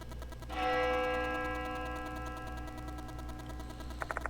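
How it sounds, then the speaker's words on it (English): A bell tolls once in the Spirit Hunter: Death Mark II video game, a loud sustained ringing with long shimmering overtones that slowly fade, followed by a few faint soft clicks near the end. "The sound of a bell echoes in my ears."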